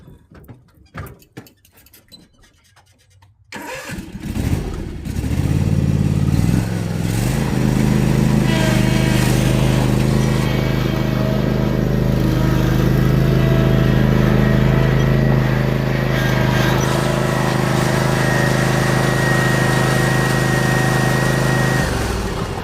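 A Gravely zero-turn mower engine, quiet clatter at first, then roaring up to a loud, close, steady running drone as the mower drives on for the rest of the clip, with no talking.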